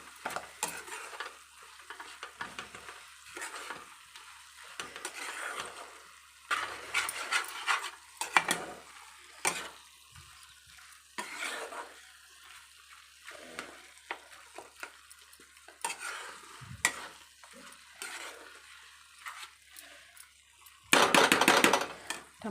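A tomato and fenugreek-leaf curry cooking in a pan in a home kitchen, a bubbling sizzle broken up by repeated scraping stirs of a utensil against the pan, with a louder burst of sizzling near the end.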